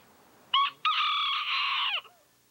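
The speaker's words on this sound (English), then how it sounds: "The Key West chickens," A Key West rooster crows loudly and close by, a short opening note followed by a long sustained cock-a-doodle call with no other sound around it.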